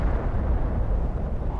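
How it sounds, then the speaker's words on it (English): Meteor impacts in the video game Planet Crafter boom continuously as heavy, rumbling explosions, a loud, dense low roar with no clear gaps between blasts. "Okay, yeah, big explosions."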